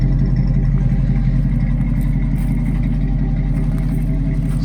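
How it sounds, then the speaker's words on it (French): A 1969 Ford Mustang Fastback with a 351 cubic inch carbureted engine and dual exhaust idles steadily, giving a loud, close, continuous low burbling rumble with no pauses. "On a un moteur qui est quand même un 351 cubic inch, donc là ça cause un peu"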